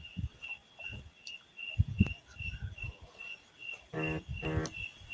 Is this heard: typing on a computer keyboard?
no